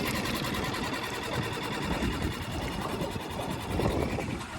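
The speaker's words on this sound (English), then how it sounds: "Always make sure your motor's cooling." A Suzuki DF6A 6 hp outboard motor runs steadily at slow speed on an evening outing, a continuous buzzing drone close by with no pauses.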